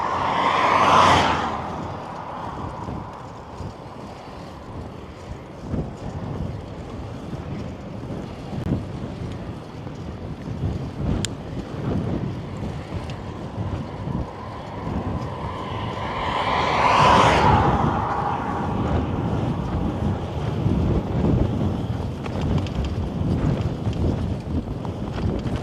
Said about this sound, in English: Wind